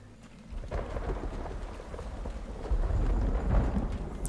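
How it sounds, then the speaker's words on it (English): Steady rainfall with low rumbling thunder in the video game Uru, a continuous wash of rain that swells louder toward the end, with no talking. "It's raining, so let's go outside and see the rain."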